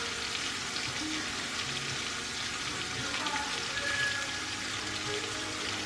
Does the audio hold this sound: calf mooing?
no